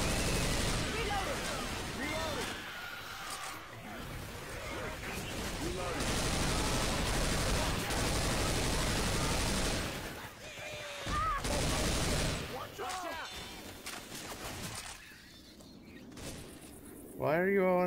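Rapid gunfire from a pistol in a video game, dense bursts of shots running almost continuously, with players talking over the shooting throughout.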